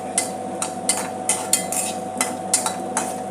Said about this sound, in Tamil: நல்லா பொரியுது பாருங்கள், நல்லா பொரிஞ்சிடணும்.